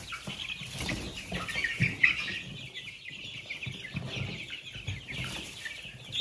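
Young chicks on a small poultry holding cheep continuously in a close, busy chorus, with occasional wing flutters and clucks amid faint movement.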